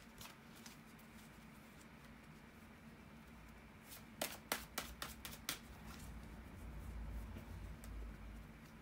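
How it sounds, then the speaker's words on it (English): Tarot cards are shuffled quietly, a brief cluster of soft riffling slaps near the middle set against a faint room hum, with no talk. "bear with me guys for a second to shuffle the tarot cards"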